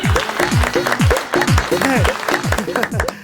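A studio audience at a cooking show claps in a short, lively burst of applause, with voices calling out over the clapping.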